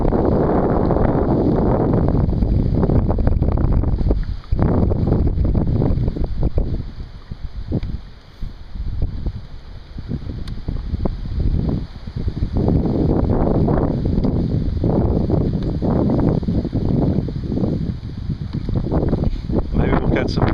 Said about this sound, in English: Stiff north wind at 25 miles an hour, gusting to 35.